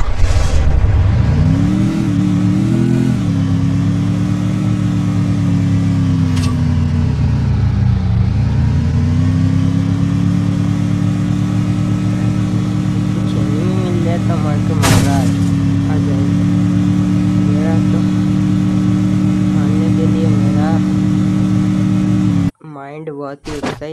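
Vehicle engine in the battle-royale game Free Fire, a loud steady mid-pitched drone that revs up and down while driving, with brief speech over it near the start and cutting off just before the end.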